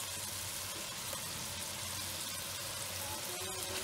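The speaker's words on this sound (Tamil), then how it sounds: "வெங்காயம், தக்காளி, இஞ்சி பூண்டெல்லாம் நல்லா வதங்கிடுச்சு." Onion, tomato and ginger-garlic paste sauté together for egg biryani, a faint, even sizzle and bubbling hiss from the pan without any talk.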